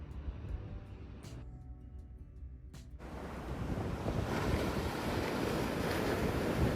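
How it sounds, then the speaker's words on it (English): Ocean waves on the Northern California coast at night, a quiet start giving way to a broad, steady rushing surf that grows louder and fills the clip, with wind noise and no voices. "We're going to sleep to the sound of waves tonight."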